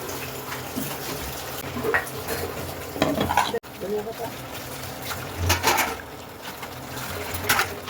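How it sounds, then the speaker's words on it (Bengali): Flat beans (shim) simmer in a pot of boiling water, making a continuous bubbling and sloshing murmur with occasional stirring clatter and faint voices in the background. "এখানে যে সিম সিদ্ধ করে নিচ্ছি।"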